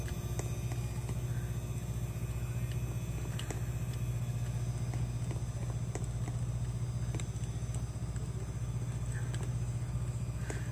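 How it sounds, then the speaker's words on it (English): A Dayton ring fan runs in a garage with a constant loud motor hum and a low throbbing drone, steady for the whole stretch with faint rattles and clicks on top. "I'm going to turn down my volume because this is very noisy. But this is my Dayton Ring fan."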